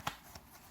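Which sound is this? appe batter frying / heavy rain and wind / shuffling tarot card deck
shuffling tarot card deck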